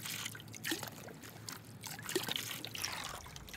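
Water trickles and splashes from a hand-turned screw pump in a small hydrodynamic project, an uneven, fairly close run of drips and gurgles with no talking.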